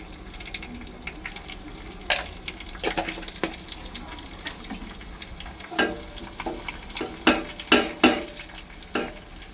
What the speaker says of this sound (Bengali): ভালো করে ভাজা ভাজা করতে হবে।